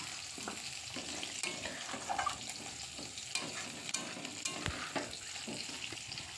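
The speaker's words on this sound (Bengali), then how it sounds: "সেগুলো কড়াইটাতে ভালো করে নেড়ে চেড়ে আমি এবার এটাকে ঢাকা দিয়ে রান্না হতে দেবো" Drumstick stems coated in mustard and garlic spices sizzle in a wok while being stirred. A quiet, continuous fry hiss carries soft scrapes and taps of the spatula.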